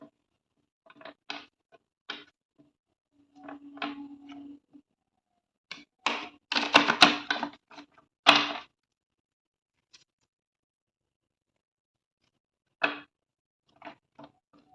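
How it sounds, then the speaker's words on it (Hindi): Tarot cards are shuffled close up in quiet surroundings: bursts of crisp flicking and riffling, one longer dense riffle in the middle, and scattered single snaps between silent gaps. "मुझे इस तरीके से कार्ड शफल करना पसंद नहीं है, क्योंकि कार्ड बेंड हो जाते हैं"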